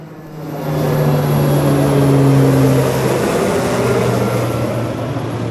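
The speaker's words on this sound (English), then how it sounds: "Air Force planes descended on San Diego like heroes, releasing water from the sky amid raging flames." Air Force firefighting aircraft fly over flames in San Diego while releasing water, making a loud, steady engine drone with a humming tone that holds throughout.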